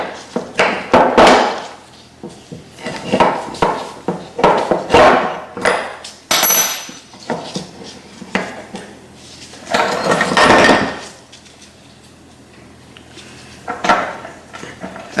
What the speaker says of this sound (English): I'm just going to take out these brake pads again so we can have a look at these pistons